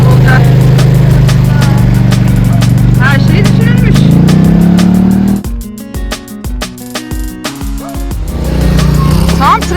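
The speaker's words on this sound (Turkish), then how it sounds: "Trafiğe denk geldik." Vehicles passing on a road near the Lech ski resort in Austria, a loud engine drone building and then cutting out, followed by quieter clattering traffic and a rising engine again, with a person talking over it.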